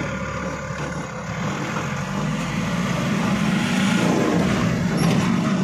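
Ashok Leyland Bada Dost truck engine labouring slowly in first gear, a steady close diesel drone with road rumble that gradually swells as it pulls.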